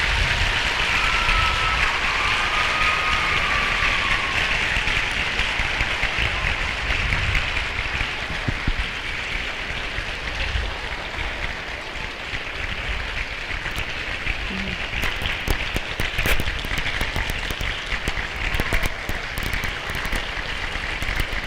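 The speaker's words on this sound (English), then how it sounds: "can we give our veterans a round of applause right now?" A school audience at a Veterans Day program applauding the veterans, steady broad clapping lasting the whole stretch, fairly loud and even, with a few sharper claps toward the end.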